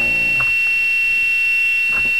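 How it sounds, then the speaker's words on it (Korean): An Arduino buzzer gives a continuous high-pitched electronic tone for about two seconds. A few faint clicks and thumps sit underneath it. "부저는 울리는데"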